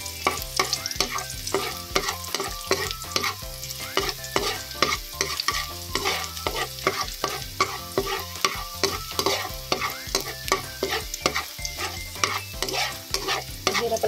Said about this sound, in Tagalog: Haluin maigi guys hanggat sa lumabas ang kanyang aroma at lumambot na ang ating sibuyas.